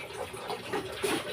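Laundry is washed by hand in hot weather, with water splashing and sloshing steadily and close by, a continuous wet churning with small surges and no pause.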